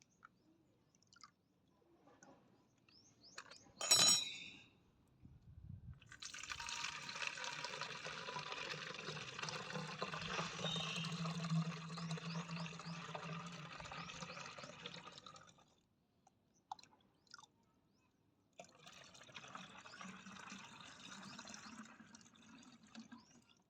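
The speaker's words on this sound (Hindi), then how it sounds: "2 लीटर पानी ऐड करवा" About 2 litres of water pours steadily into a container for several seconds, stops briefly, then pours again; a sharp knock comes just before it starts.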